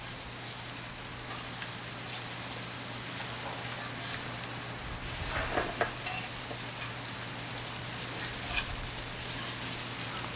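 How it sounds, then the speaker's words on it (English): Food sautéing in oil in a pan outdoors in Cocodrie, Louisiana, a steady close sizzle and crackle running throughout with a few louder pops and stirring scrapes near the middle. "if you're sauteing in a pan like this, to tilt it towards you a little bit so the oil runs down"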